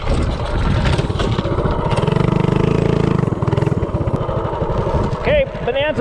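A Duromax 208 engine on a Bonanza minibike with 1.3 ratio rockers runs hard at top speed, a loud, buzzing, steady drone that swells slightly and then eases off, with a voice speaking over it near the end.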